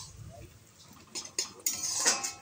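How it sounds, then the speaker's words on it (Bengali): A metal spatula stirs lentils and pumpkin greens in a pot, giving a few sharp scraping clinks against the metal, close and brief, without talking. "তারপর ঢাকনা খুলে আমি খুন্তি দিয়ে আরও কিছু সময় একটু নাড়াচাড়া করে দিচ্ছি।"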